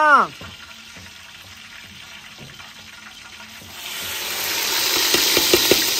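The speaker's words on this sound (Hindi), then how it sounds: "हाँ, मिसाले भुनीच रहे हैं" Spices fry in hot ghee for aloo palak in a village kitchen, a broadband sizzle swelling loud in the second half with a few sharp crackles, after a brief voice at the start.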